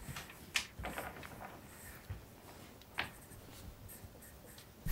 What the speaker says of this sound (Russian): Берем простой карандашик и рисуем хилет.